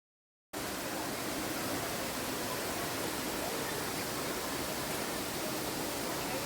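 Thirathgarh Waterfalls in Jagdalpur, Chhattisgarh, pours with a dense, unbroken roar that starts abruptly after a brief silence and holds steady and loud throughout.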